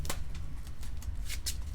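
A deck of cards is riffled and shuffled at a tabletop card game tournament, a quick burst of crisp, close fluttering snaps lasting under two seconds.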